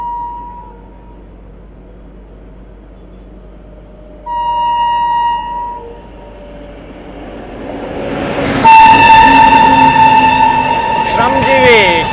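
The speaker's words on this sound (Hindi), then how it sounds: "विक्रमशिला को कोई गाड़ी ओवरटेक कर रहा है।" A train rumbles steadily, then a second train approaches and overtakes it close by on an Indian railway, growing louder with a sharp screech and rattling wheels.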